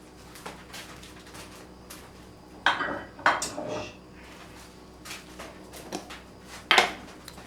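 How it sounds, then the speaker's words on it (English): Garlic, rosemary and oil are stirred together in a dish by hand, giving quiet clinks and scrapes. A few sharper knocks of utensil against the dish stand out near the middle and again near the end. "So I'm just going to mix all that up, get the oil around it."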